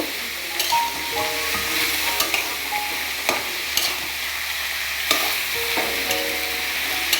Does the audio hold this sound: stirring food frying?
yes